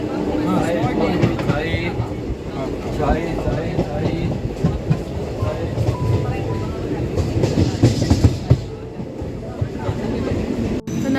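Train rolling through Mahe railway station in Kerala, a continuous loud rumble with clattering wheels heard from on board, while people talk throughout.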